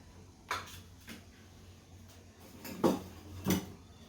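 A metal kadai is set down on a kitchen stove with a few distinct clanks and knocks, two of them louder and close, spaced across a quiet background with no talking.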